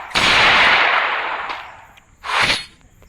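Gunfire in a shooting video game lands a headshot: one loud, sharp blast that rings out and decays, then a second, shorter shot follows about two seconds later, with no talking.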